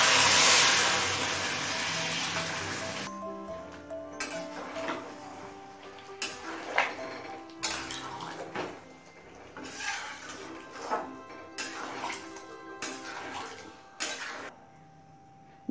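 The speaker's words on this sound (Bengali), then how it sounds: "এবার গরম জল দিয়ে দিচ্ছি।" Hot water rushes loudly into a pot of jackfruit and prawn curry for about three seconds. Then come spoon stirs, metallic clinks and clanks of the cooking pot, close by and without speech.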